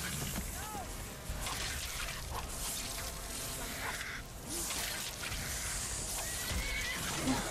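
A horse whinnies in a fantasy video game amid a dragon attack, its cries rising briefly over a busy bed of whooshes, water-like rustle and scattered game effects, moderately faint in the mix.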